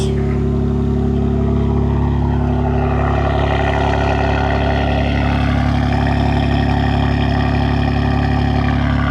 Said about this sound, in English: I'm gonna start the video off by giving y'all a little cold start real quick